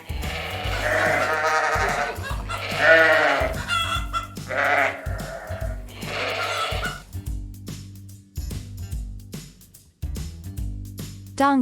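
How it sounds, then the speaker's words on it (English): Sheep bleat repeatedly, loud and close, in several wavering calls separated by brief pauses, set against a low steady hum. "Sheep."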